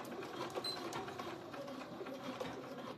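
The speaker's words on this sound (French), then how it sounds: "si votre machine a du mal à passer l'épaisseur, allongez" A sewing machine stitches through a thick bag, giving a steady, fairly quiet mechanical whirr with fast rhythmic needle ticks that carry on throughout.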